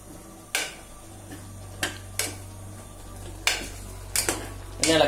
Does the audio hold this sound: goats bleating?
no